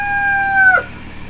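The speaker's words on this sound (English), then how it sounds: "we're standing next to the chicken coop." A single loud, close chicken call at a coop, a drawn-out tonal crow that ends abruptly after under a second, followed by quiet background.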